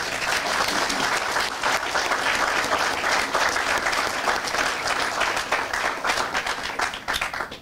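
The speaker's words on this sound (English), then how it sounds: "I want to give them one more round of applause" A crowd at a YMCA groundbreaking applauds the YMCA and Boys and Girls Club leaders, steady dense clapping from many hands held for several seconds before tapering off near the end.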